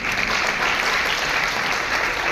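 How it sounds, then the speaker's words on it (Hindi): A crowd claps continuously in dense, steady applause at a teacher appointment-letter ceremony in Chandigarh, with no pauses. "तालियां बजती रहें।"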